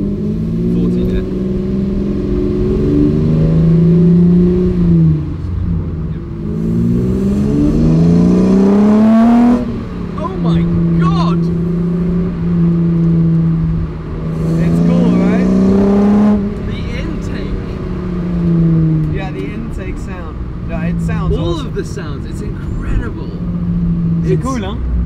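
A Jannarelly Design 1 supercar drives along a road at about 40 mph, its engine droning loudly and rising and falling in pitch through repeated gear changes as people talk throughout.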